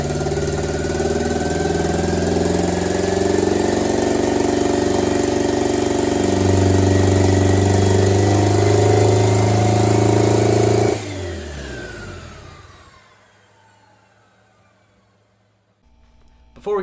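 A D16-swapped Honda Integra engine runs loud and rough, idling with uneven revs for about eleven seconds before cutting out abruptly, leaving near-quiet with faint mechanical ticks and a brief noise at the end.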